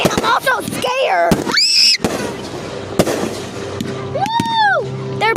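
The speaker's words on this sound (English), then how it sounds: "I love fireworks. I hate fireworks." Fourth of July fireworks burst in sharp loud cracks and pops with whistling, rising squeals between them, while people close by shout and cheer.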